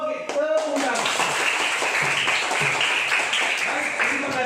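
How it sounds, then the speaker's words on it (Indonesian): Classroom applause from a group of students, dense steady clapping filling the whole stretch with voices mixed in. "Oke, tepuk tangan."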